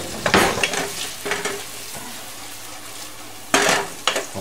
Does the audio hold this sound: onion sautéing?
yes